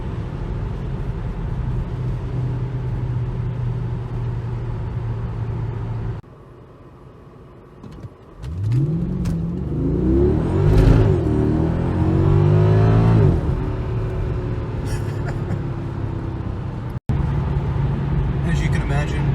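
A 2007 Mercedes-Benz E63 AMG on the highway, engine rising in a strong rev sweep after a brief quiet drop, with steady road and cabin rumble and someone talking over parts of it.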